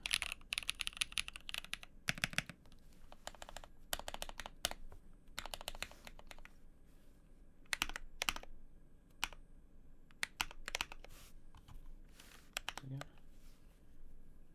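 Rapid bursts of key clicks from a Tofu65 keyboard fitted with Invyr Holy Panda tactile switches, typed at a modest pace with short pauses between runs, close and crisp, with occasional speech mixed in.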